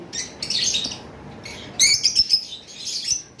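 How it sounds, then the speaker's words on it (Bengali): Violet lovebirds in a bird shop give bright, shrill chirps and squawks in several bursts, close and fairly loud, with no voices. "এখানে ভায়োলেট লাভবার্ড রয়েছে"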